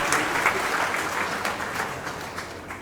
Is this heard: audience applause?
yes